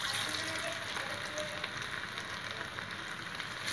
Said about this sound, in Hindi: अब हम इसमें ये कबाब एक एक करके इस तरह से डालेंगे और उसे बढ़िया अच्छे से गोल्डन ब्राउन करेंगे